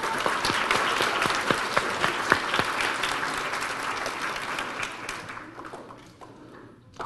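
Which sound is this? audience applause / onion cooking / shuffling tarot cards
audience applause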